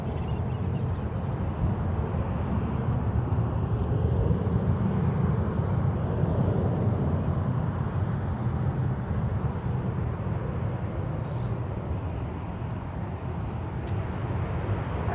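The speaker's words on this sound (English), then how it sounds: "That's TACA flight 563, Avianca, headed back to San Salvador," An Avianca TACA Airbus A320neo jet departs San Francisco International Airport, a steady, broad low rumble of engine noise that stays fairly even throughout, with faint higher chirps above it.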